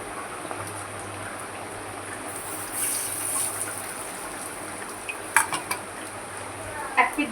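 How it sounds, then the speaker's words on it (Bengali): Goat fat fritters frying in oil like onion pakora, a steady low sizzle running throughout, with a few brief metallic clinks of a utensil toward the end. "আমি এবারে এটাকে পেঁয়াজির মতন করে ভাজবো"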